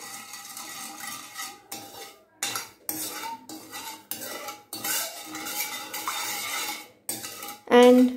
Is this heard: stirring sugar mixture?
yes